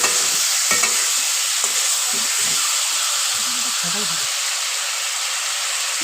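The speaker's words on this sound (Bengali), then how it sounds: "পেঁপে আলুটা দিয়ে দিলাম, দিয়ে ভালো করে কষাবো" Boiled papaya and potato are stir-fried in spiced oil, giving a loud steady sizzle and hiss with scraping stirs and clatter in the first few seconds, then a continuous fry.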